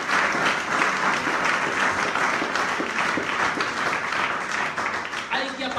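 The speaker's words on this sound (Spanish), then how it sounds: "Vamos a darle un aplauso al Señor en esta mañana" A church congregation at a sermon breaks into steady, dense applause that fills the room, with a few voices calling out faintly underneath. The clapping holds at an even level throughout and tapers slightly at the end.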